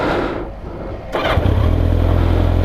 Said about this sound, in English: let's get it started and let's go for a little spin